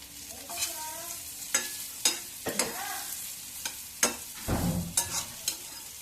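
Bitter gourd frying in a pan, a steady quiet sizzle broken by repeated sharp scrapes and clatters of a spatula stirring, with no talking.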